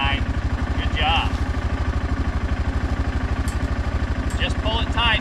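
Four-wheeler ATV engine idling and chugging at close range with a steady rapid pulse while pulling a chain tight during farm pond cleanup; brief voices come through over the engine.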